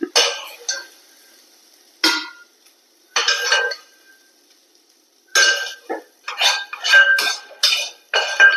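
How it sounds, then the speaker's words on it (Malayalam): Maggi noodles being moved into a second pot while cooking Maggi egg masala, with a few separate clinks and scrapes of metal utensils against cookware, close up, coming in short bursts with quiet gaps between them. "അപ്പൊ നമുക്കിത് വേറൊരു പാത്രത്തിലേക്ക് എടുക്കാം."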